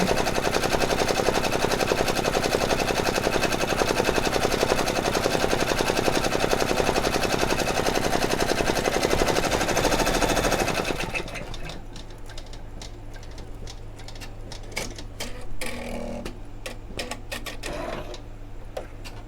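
An embroidery machine stitches onto a Converse shoe with a loud, rapid, continuous mechanical rattle that holds steady, then drops to a quieter, intermittent clicking and whirring, with no voices.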